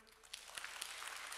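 Church congregation clapping during a Korean sermon service, a brief faint patter of scattered hand claps building slightly over a second and a half.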